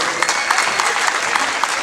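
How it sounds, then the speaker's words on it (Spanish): Loud, close applause from a crowd at a Huasteca festival in Huejutla de Reyes, Hidalgo, honoring a group of voladores from Tlalnepantla: dense, continuous clapping with no voices. "Se escuchan los aplausos"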